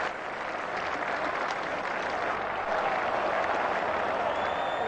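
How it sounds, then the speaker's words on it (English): A cricket crowd at an England versus Australia Test match applauds a fine piece of fielding, a broad, steady wash of clapping from the stands lasting several seconds. "he earns the applause of his side there"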